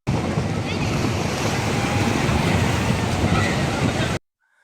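Ocean surf at the Kanyakumari shore, where the Bay of Bengal, Indian Ocean and Arabian Sea meet among large rocks: a loud, continuous wash of breaking waves mixed with wind buffeting the microphone, ending abruptly.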